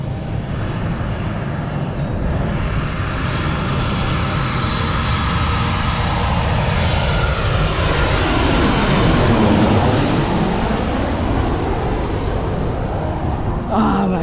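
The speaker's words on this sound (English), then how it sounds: "The aeroplane is coming again." An airplane passes at KLIA2 airport with a loud, continuous jet engine roar that swells toward the middle and slowly fades, with no gaps or talking.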